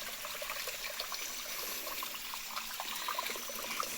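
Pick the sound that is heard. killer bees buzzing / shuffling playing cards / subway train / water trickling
water trickling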